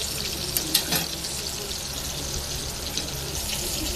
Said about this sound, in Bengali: আমার KSP চিকেনটা মিডিয়াম আঁচে ভাজতেছি